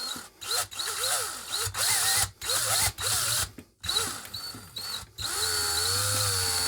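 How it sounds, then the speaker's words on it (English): A power drill whirs in repeated bursts while drilling into plastic, its pitch rising and falling under load, stopping and restarting before a final steady run. "We're just going to drill right into the center of that until it hits the screw."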